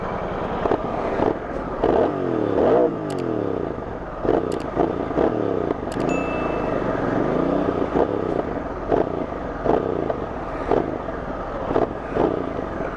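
A Royal Enfield Bear 650 motorcycle with a 2-into-1 exhaust revs close by, its engine note climbing and falling in repeated sweeps over a steady mechanical clatter, with no talking.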